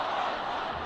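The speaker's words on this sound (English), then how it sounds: "Crowd singing for him to be sent off" A football crowd at a university match chants and sings for a player to be sent off after a late tackle, heard as a brief, dense, steady wall of massed voices.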